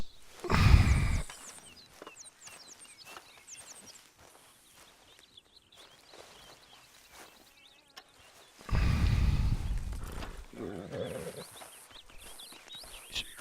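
A horse in Red Dead Redemption 2, a beginner's standard breed, walks with steady clip-clop hoofbeats, loud at the start and again near the end, quieter in between, with no talking.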